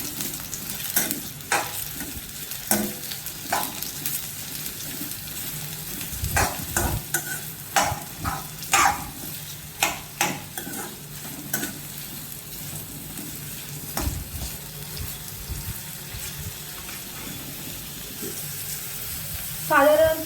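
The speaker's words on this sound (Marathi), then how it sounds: "आपलं तेल गरम झालेलं आहे आपण त्यामध्ये आता कांदा बा हळूहळू टाकून थोडासा ब्राऊन सर करून घेणार आहोत" Sliced onion dropped gradually into hot oil for a spicy chicken angara, frying with a steady soft sizzle while a spoon stirs and scrapes the pan in scattered close clicks, no talk.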